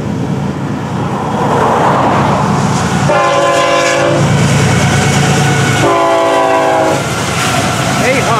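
A Florida East Coast Railway freight train, FEC101, rumbles past close by at night with a steady roar, its horn sounding two long blasts partway through.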